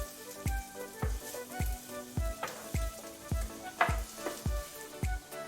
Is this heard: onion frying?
yes